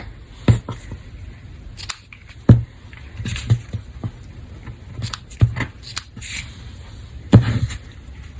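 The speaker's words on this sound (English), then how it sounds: "I will snip the edges off" Scissors snip the edges off a paper card in a series of short, crisp cuts spaced irregularly, close and fairly quiet, with faint paper rustling between the snips.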